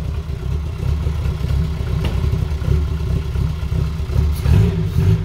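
A car with a freshly fitted homemade custom spoiler creeps forward slowly, its engine a steady low rumble close by with mild revving and some clatter throughout.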